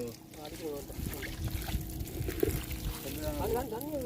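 Water pours and trickles into a boat during fishing, a soft gurgling flow heard under a voice speaking nearby.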